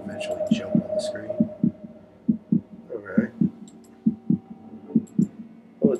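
A slow, steady heartbeat from a Halloween flash video game thumps in paired beats, loud and close, over a low background hum, with faint voice sounds in places.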